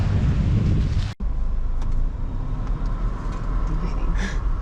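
Car towing a trailer pulls away from an apartment, a steady low engine and road rumble with wind buffeting the microphone, brief dropout early on, continuous and close throughout.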